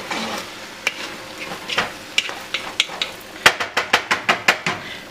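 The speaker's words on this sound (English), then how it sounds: "And now what we're gonna do is we are gonna stir it around." Arroz con gandules, Puerto Rican rice with pigeon peas, being stirred in a pot after most of the water has absorbed: a spoon scrapes and clinks against the pot, speeding into a run of sharp, evenly spaced knocks in the second half, with no talking.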